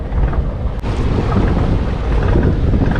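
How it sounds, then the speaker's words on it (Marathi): A fishing boat heading out from Borli jetty to sea for lobster fishing gives a loud, continuous rumble mixed with heavy wind buffeting the microphone and water noise, with no voices. "आता आपली बोट आहे ना ती फिशिंगसाठी निघालेली आहे"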